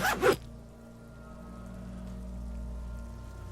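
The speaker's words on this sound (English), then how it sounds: "Pulled down a zipper on his orange jacket." A jacket zipper pulled down in the video game Disco Elysium, heard as a quick double rasp at the start, close and fairly loud, fading into a low steady ambient hum.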